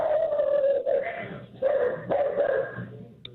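A dog barks and yips over a radio call-in phone line, several loud, slightly muffled bursts in quick succession with brief pauses, heard alone.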